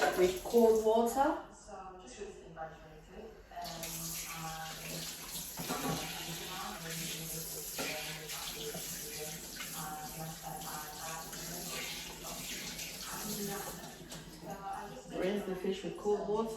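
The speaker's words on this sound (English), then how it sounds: "Rinse the fish with cold water." Cold tap water runs steadily in a kitchen as fish is rinsed, a continuous moderate splash heard under a voice talking through most of it.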